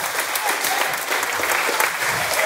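A crowd at an Oktagon fighting event applauds a fighter's win, with dense sustained clapping throughout, close and lively, and voices faintly mixed in.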